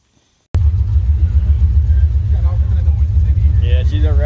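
An old car driving along gives off a loud, constant low rumble with faint rattly clatter mixed in, while people talk inside the cabin over the noise.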